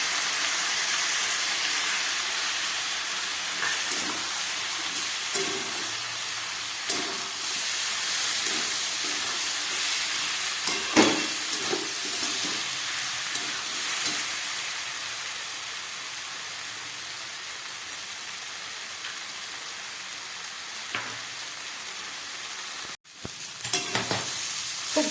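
Washed, pre-roasted mung dal is sautéed in a pan with leftover rice and vegetables for a vegetarian khichuri, making a steady close sizzle broken by intermittent scraping and stirring clatter that lasts about twenty-five seconds, with no talking.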